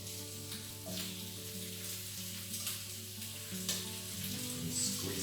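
Chicken thighs seasoned with paprika and salt sizzle skin side down in a hot pan, a steady close frying hiss with occasional crackles and pops throughout, no talking.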